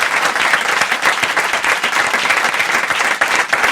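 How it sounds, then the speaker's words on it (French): A television studio audience applauds during a French comedy programme, a dense, steady wash of loud clapping that continues throughout. "On peut vraiment applaudir Patricia."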